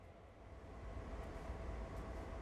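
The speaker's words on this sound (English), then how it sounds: "you can start driving the locomotive" Freight locomotive, an AC4400CW on Sand Patch Grade in Train Sim World 6, starting to move with a steady low rumble that builds slightly and then holds, without breaks.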